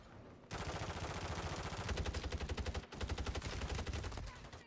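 Rapid automatic gunfire from the Subverter weapon in a video game rattles in long, loud, close bursts with a brief pause midway, while a player talks over it.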